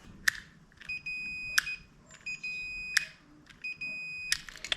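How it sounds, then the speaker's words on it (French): Four sharp, bright electronic beeps from a multimeter continuity test on a Kinroad 150cc buggy's scraped, formerly oxidized wiring connectors, spaced about a second and a half apart over a quiet, faintly noisy background. "On peut voir que ça va biper."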